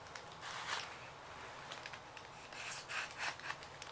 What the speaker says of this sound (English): flip it over and do some of the cut from the other side